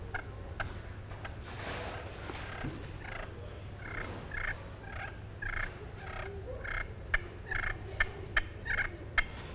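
A hand-held turkey call imitates turkey clucking, giving soft clucks at first, then a run of sharper, evenly spaced clucks near the end, close and fairly quiet with no talk.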